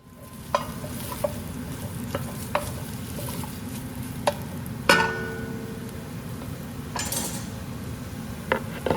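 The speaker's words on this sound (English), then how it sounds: "put a little bit of oil at the bottom of the pan and throw the onions in" Steady sizzling of onions frying in oil in a pan, with occasional clinks and scrapes of a utensil stirring.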